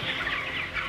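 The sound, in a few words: broiler chickens clucking in a barn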